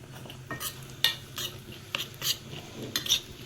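Carom seeds and deggi chili powder are stirred in a hot pan for a chole tempering, with a soft sizzle under a run of sharp metallic spoon scrapes and clinks on the pan, close by.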